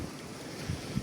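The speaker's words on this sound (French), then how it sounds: "Là, je suis désolé pour le vent." Strong outdoor wind buffets the microphone with a steady, loud low rumble and broadband roar, swelling in a couple of brief gusts, with no voices present.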